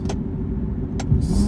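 Engine of a 2010 Nissan 370Z Touring during a downshift, a loud steady low drone inside the car with a brief rise in pitch near the end.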